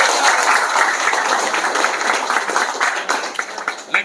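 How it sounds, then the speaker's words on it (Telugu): Applause from a crowd at a political gathering in a village where people join the Jana Sena party, steady clapping that stays loud for several seconds before thinning toward the end. "క్లాప్స్ కొట్టినందరూ"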